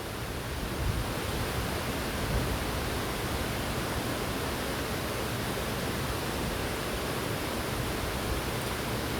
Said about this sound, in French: laissez-vous bercer par la cascade, le murmure, le chant de l'eau.